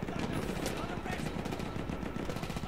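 Dense gunfire in the Battlefield 1 video game, rapid overlapping shots and bursts forming a continuous loud barrage with no let-up, accompanied by a faint voice.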